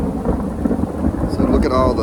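Thunder rolling through a hail and sleet thunderstorm, a loud continuous rumble over heavy rain pattering close by, with someone speaking briefly over it.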